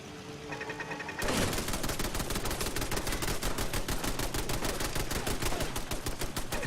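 Automated turrets fire in the video game Fallout 4. A quiet moment gives way to a sudden, loud, sustained burst of rapid machine-gun fire that continues steadily to the end.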